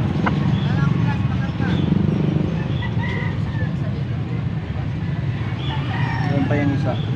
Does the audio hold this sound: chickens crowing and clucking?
yes